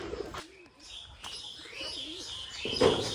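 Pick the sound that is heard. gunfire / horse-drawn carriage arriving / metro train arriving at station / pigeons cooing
pigeons cooing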